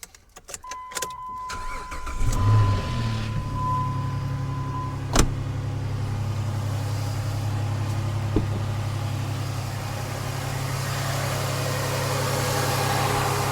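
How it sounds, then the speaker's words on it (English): A 2007 Jeep Liberty engine cranks and catches, then settles into a steady, even idle with a low hum and a couple of faint clicks, close and continuous with no talking. "So let's fire this bad boy up."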